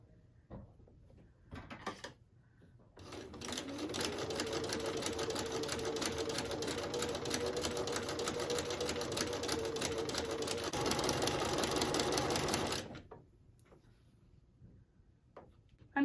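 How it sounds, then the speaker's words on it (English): A sewing machine stitches quilt pieces in one continuous whirring run of about ten seconds. Quiet handling clicks and fabric shuffling come before and after the run. "the side that's facing my machine is the side we're going to run through and stitch"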